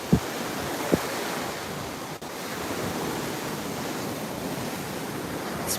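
Steady surf rushes and washes along the Atlantic Ocean shore at Juno Beach, Florida, a continuous broad roar of breaking waves with wind buffeting the microphone and a couple of brief knocks.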